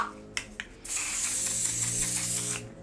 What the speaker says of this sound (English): let me just spray the face